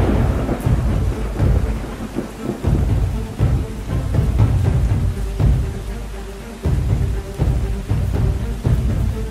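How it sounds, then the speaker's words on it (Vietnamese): Steady rain pours down with repeated low rumbling thunder rolls, loud and close throughout, in a countryside setting in the Mekong Delta region of southern Vietnam. "nhìn những hạt mưa rơi"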